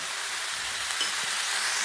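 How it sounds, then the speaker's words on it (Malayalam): Onion and bitter gourd sizzle steadily in a hot pan as they are stirred, a continuous close hiss of frying with faint scraping, no voices. "ഉള്ളി ചെറുതായിട്ടൊന്ന് വഴറ്റി വരുമ്പോൾ നമ്മൾ പാവയ്ക്കയും കൂടി ഇട്ട് കൊടുക്കണം"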